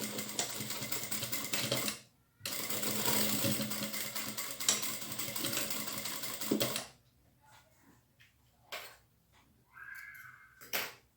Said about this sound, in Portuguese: vou fazer uma costura de 1 centímetro aqui na borda